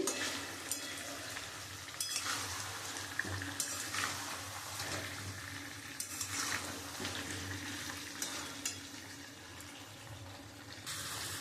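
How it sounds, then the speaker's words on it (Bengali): Chicken pieces and potatoes sautéing in a pan for chicken kosha, with steady sizzling and frying and repeated stirring scrapes running throughout, close and moderately loud, no voices. "আমি মাংসটা খুব ভালো করে কষিয়ে নিচ্ছি"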